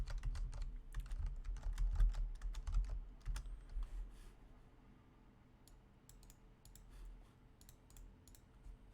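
Fast, close typing on a computer keyboard while working at a Linux command line, a steady run of clicky keystrokes that thins to sparse individual taps toward the end.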